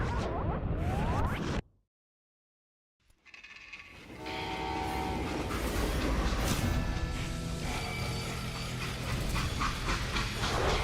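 Train in the Western shooter Call of Juarez: Gunslinger, a loud rolling rail rumble that cuts to a brief silence, then returns with a whooshing swell and dense steady clatter with tonal squeals, close and sustained.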